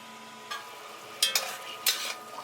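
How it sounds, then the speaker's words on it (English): Tongs stir rabbit stew with apple cider in a pot, giving a few sharp metallic scrapes and clatters in quick clusters over a quiet, faint simmering background. "I'm just going to stir it around with my tongs here."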